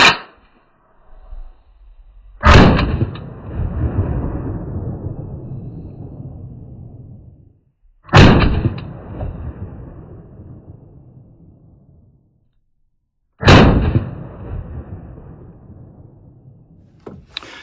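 Three loud, sharp gunshots from a Galil ACE rifle firing 5.56 Federal XM193 rounds at AR500 Level III body armor outdoors, evenly spaced several seconds apart, each with a long rolling echo decaying behind it.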